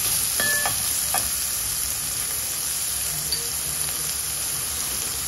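Ingredients being sautéed in a pan for sambar, a steady close sizzle with a few clinks of a spoon early on, then continuous frying hiss, no one speaking.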